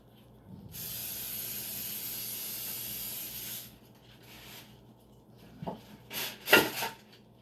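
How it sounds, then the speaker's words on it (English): Sliders frying in a pan give a steady bright hiss for about three seconds, then fade, followed by a few sharp spattering pops and crackles near the end. "And we're gonna fry down our food."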